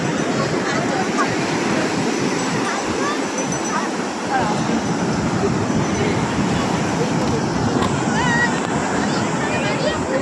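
Sea waves rolling onto the beach at Puri make a steady, dense roar of surf that fills the whole stretch, with faint voices of people nearby.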